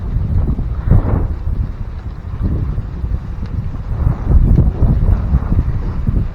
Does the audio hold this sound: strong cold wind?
yes